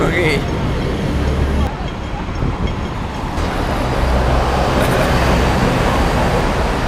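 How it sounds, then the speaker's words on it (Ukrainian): City buses run through Hong Kong streets with their engines rumbling, loud and close, layered over continuous traffic roar that swells and shifts as the vehicles pass. "Так ганяють автобуси по Гонконгу."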